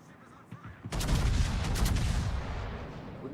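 Naval gunfire in the video game World of Warships: after a quiet start, a loud booming salvo erupts and rumbles on with layered crackling shots for a few seconds.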